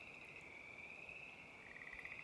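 A steady chorus of frogs croaking continuously by a mountain lake, soft and somewhat distant, with no voices.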